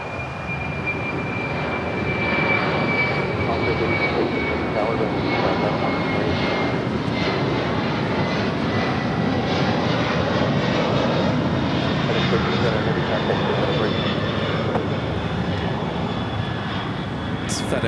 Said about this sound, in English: FedEx flight 1379 headed to Memphis on a 767-300